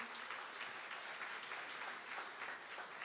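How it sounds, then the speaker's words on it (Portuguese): A church congregation claps together during a worship service, a quiet, steady patter of many hands applauding at a distance, continuous for a few seconds. "Vamos dar uma salva de palmas pela vida do nosso amigo."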